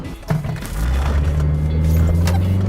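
A cheap, worn £200 car accelerating hard at full throttle, its engine droning loud and steady close by with a brief dip as it changes gear smoothly.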